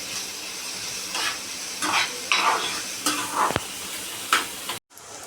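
Onion frying in a pan for a traditional Maharashtrian bhaji, a steady soft sizzle broken by several close scraping stirs of a spoon, then a brief cut to silence near the end.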